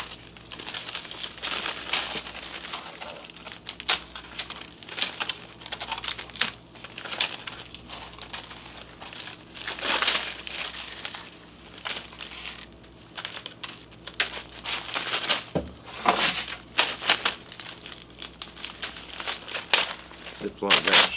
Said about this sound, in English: Ziploc bag here, put the pieces in that.